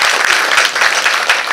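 An audience at a Tamil book launch event claps together in a dense, loud, continuous burst of applause with no break.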